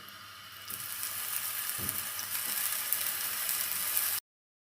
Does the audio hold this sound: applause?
no